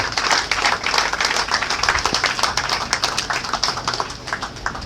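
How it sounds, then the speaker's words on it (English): A church congregation applauds the choir during a pep talk, with dense, lively clapping from many hands that stays strong throughout and fades slightly toward the end. "I want to ask us to applaud the choir once again"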